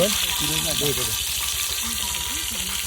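Kaul fry cooking in a pan, a steady hiss of frying with a low, regular pulsing hum underneath and a short burst of voice-like sounds near the start.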